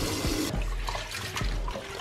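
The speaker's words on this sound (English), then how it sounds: "I'm gonna wash my rice." Water splashes and trickles as parboiled rice is rinsed in a pot or bowl, a brief close burst of pouring and swishing liquid.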